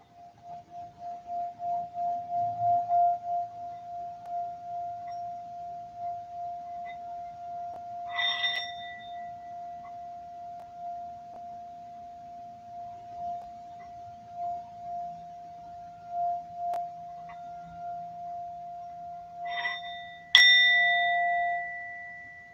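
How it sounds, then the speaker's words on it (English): A Tibetan singing bowl is rubbed around its rim, building a steady pulsing hum that swells and sustains, with a few brighter metallic touches along the way and a sharper strike near the end. "Takes a little time to build it up"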